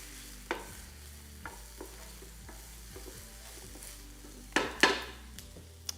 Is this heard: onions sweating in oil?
yes